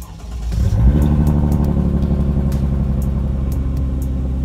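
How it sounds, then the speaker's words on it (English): A Chrysler Crossfire engine cold-starts with a cranking burst that settles into a loud, steady idle rumble, close up, with no talk over it. "Welcome to a week long cold start with the crossfire."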